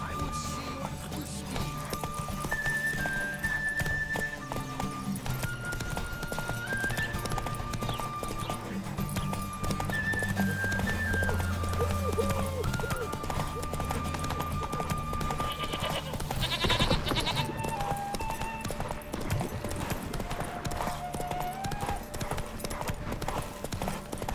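Roach, a horse in The Witcher 3 video game, galloping hard with steady rhythmic hoofbeats, close and continuous, mixed with orchestral music and occasional crashing noises.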